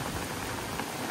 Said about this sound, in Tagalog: sobrang lakas ng ulan ngayon